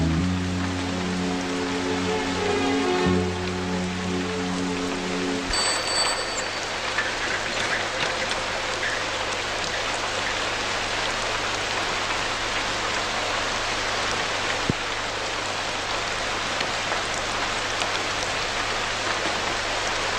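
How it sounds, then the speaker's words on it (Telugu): Steady heavy rain falls through a night scene, a dense even hiss that fills the clip after an opening stretch of tonal sound, with no voices. "పైగా వర్షం"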